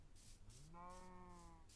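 A cow in a Minecraft-style mining game gives a single drawn-out moo, faint and distant over a soft rhythmic background.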